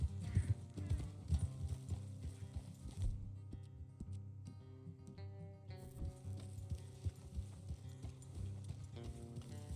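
Rhythmic horse hooves clip-clop along a road in the video game Red Dead Redemption II. The steady hoofbeats sit over a low, continuous game ambience and music bed.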